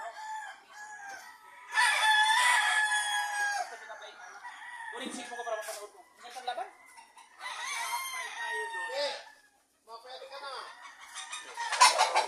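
A rooster crows loudly several times, with clucking between the calls, while someone talks nearby.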